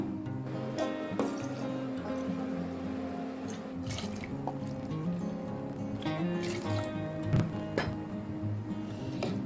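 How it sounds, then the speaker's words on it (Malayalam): Five cups of water are poured into a pressure cooker holding garlic, ginger, cloves and cinnamon for spicy harees, making a soft, continuous splashing and trickling close by, with faint clinks and drips. "ഇതിലേക്ക് ഒരു 5 കപ്പ് വെള്ളം ഒഴിച്ചു കൊടുക്കാം."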